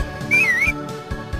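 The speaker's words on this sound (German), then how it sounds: "Pfeif." A single bright melodic whistle in the Harvest Moon: Back to Nature video game, one wavering tone lasting under half a second over soft background game music.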